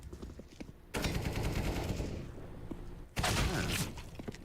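Desert Eagle pistol shots ring out in Counter-Strike during an ESL Pro League match, two sharp bursts of loud gunfire with crackling impacts, over faint background game noise.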